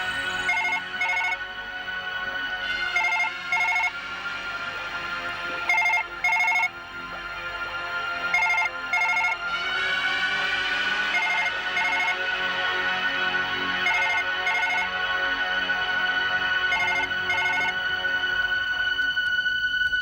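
A telephone rings continuously with a repeating electronic ringtone pattern, loud and close, over a tense horror-drama scene with no speech.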